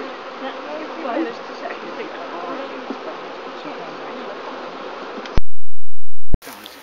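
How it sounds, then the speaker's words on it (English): Honey bees swarm and buzz steadily around an open hive during an inspection, a dense close drone that runs alone for about five seconds, then cuts out to silence and a brief loud burst. "the bees are all in the umbrella now"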